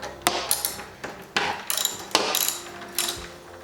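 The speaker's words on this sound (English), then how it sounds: "So as you can see, I got my socket here." A socket wrench ratchets against bolts on a school bus floor heater, giving several sharp clicking bursts with brief pauses between, close and fairly loud with no talking.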